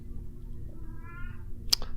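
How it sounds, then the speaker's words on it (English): A house cat gives one short, clear meow close by over a steady low background hum. "My cat's excited that you saw that face."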